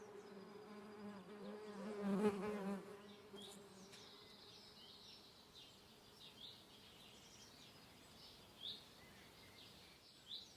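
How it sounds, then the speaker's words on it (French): Mason bees emerging in a garden at the end of winter make a faint buzzing that swells briefly as one passes close, then settles into soft intermittent hums, with light birdsong far in the background. "Dès la fin de l'hiver, les osmies quittent leur chambre et nous offrent l'un des premiers balais du jardin."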